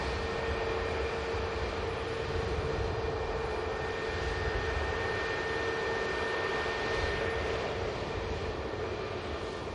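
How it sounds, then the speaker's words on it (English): Passenger jet departing Manchester Airport, a steady, broad engine roar with a faint whine held at a constant level throughout, heard from a distance with no voices. "This is the aircraft heading on the return leg to Milan"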